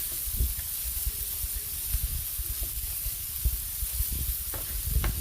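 White onion and two cloves of garlic sautéing in three tablespoons of butter, a soft steady sizzle and hiss with low bubbling pops, close and fairly quiet, no voices.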